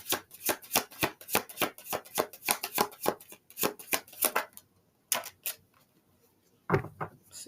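Tarot cards are shuffled in a quick run of crisp riffling bursts, close and fairly quiet, then stop; a few more snaps and one louder rustle follow as cards are drawn from the deck. No one speaks.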